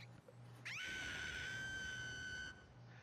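A shrill, sustained cartoon scream from a pony cartoon rises sharply and holds for about two seconds before cutting off, sitting above a faint background hum.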